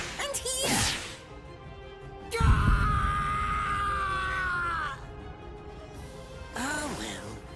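Man screaming in pain in the video game Bleach: Rebirth of Souls, a loud strained drawn-out cry lasting several seconds, with sharp whooshing hit effects before it and voices around it.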